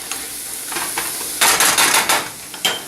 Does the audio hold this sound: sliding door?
no